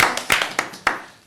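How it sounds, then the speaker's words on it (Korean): A handful of sharp, scattered hand claps from a small studio audience welcoming a guest on a Korean talk show, close and brief, with no voices. "환영의 박수"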